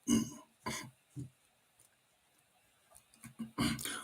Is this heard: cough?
yes